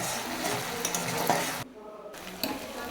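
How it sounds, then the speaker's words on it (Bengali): Spices with sugar and tomato ketchup stirred and sizzling in a pan, a steady frying hiss with spoon scraping that drops out briefly midway before resuming. "এগুলোকে একসাথে আমি একটু ভালো করে নাড়াচাড়া করে মশলাটাকে"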